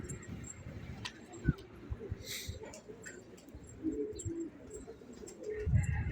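Pigeons in a loft kept as breeding pairs coo softly and repeatedly against rustling and faint background noise, with a few sharper knocks and wing-like flutters nearby.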